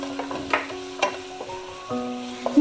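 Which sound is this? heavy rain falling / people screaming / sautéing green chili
sautéing green chili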